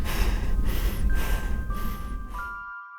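Panting, out-of-breath breathing comes as a series of quick, close breaths, joined by faint ringing chime-like tones, before everything cuts to silence.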